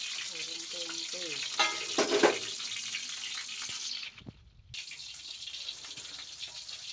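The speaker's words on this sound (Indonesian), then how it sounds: "Goreng tempe pemirsa." Tempe frying in a pan, a steady crackling sizzle running throughout with a brief quieter dip midway, close and moderately loud.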